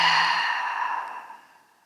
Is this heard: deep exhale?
yes